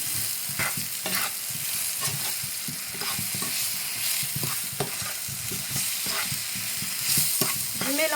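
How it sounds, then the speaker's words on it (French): Lham lahlou, a sweet meat dish with dried fruits, spices, sugar and lemon juice, is stirred in a pot, with quick rhythmic scraping strokes over a constant close sizzle. "Je mélange un petit peu"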